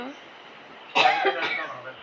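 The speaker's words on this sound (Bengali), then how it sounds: "পেঁয়াজ আদা রসুনের এত ঝাঁজ, কাশি হয়ে যাচ্ছে আমার।" Coughing fit set off by pungent fumes of onion, ginger and garlic being cooked for Kashmiri alur dom: a sudden close, harsh cough burst followed by a second, weaker cough after a quiet stretch.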